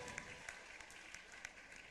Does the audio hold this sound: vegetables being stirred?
no